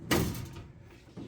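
A shop drawer holding FN gun holsters slides open with one sharp clunk, followed by a faint rolling rattle and a softer knock near the end.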